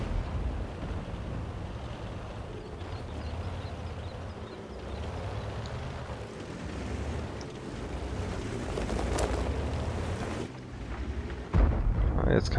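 Tank cannon shots and explosions from the video game World of Tanks boom as deep rumbles, with a sharper, louder blast near the end, under continuous German-speaking commentary.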